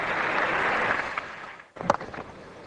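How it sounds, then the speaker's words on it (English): A test-match cricket crowd at Sydney applauds a beautifully played on drive: steady, broad clapping that fades after a couple of seconds, followed by a few scattered louder sounds. "Glorious stand up and applaud."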